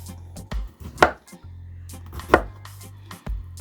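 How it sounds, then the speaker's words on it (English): Knife cutting slits into a raw beef roast on a board, a few sharp separate cuts and thuds against a low steady background hum. "I'm going to put some holes in the beef so that it will absorb the seasoning"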